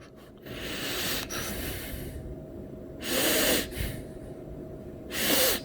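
A person wearing Sony WF-1000XM3 earbuds imitates heavy breathing with several loud, close, breathy huffs spaced a second or two apart. The huffs sit against a low, quiet room hiss.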